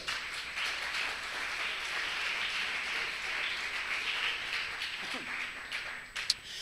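A church congregation applauds in a continuous, fairly faint wash of clapping that stays even throughout, with a sharp tap near the end.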